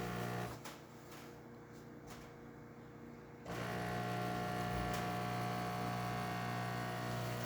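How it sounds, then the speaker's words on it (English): A DeLonghi La Specialista espresso machine starts brewing a shot after a full service, a steady pump drone and buzz kicking in and holding loud and close after a quieter stretch with a few clicks. "And now we can brew that shot."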